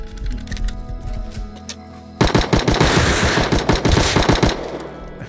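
Rapid automatic gunfire erupts in the Rust Console Edition video game, a loud close burst of evenly spaced shots lasting a couple of seconds after quieter ambient game sounds, with no talking.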